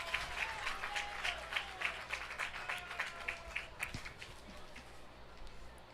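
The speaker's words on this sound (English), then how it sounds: "Big applause raining down from the Clear Fork cheering section, and rightfully so." Applause from the home cheering section at a high school girls soccer game, a broad wash of outdoor clapping heard from a distance, steady for several seconds and then thinning out.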